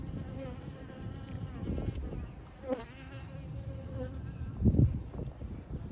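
Honeybees buzzing around an opened hive during an inspection, a continuous layered drone of many wings close by with individual bees zipping past the microphone, including one loud close pass near the end.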